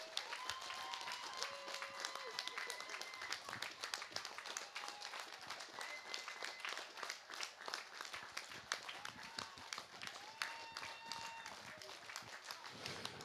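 A crowd applauds a record fundraising total, a steady patter of many hands clapping throughout, faint and distant, with occasional tonal sounds drifting over it.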